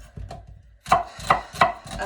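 An onion is chopped small on a cutting board for a lentil vegetarian soup, with a knife striking the board in a few sharp, evenly spaced, close-up chops.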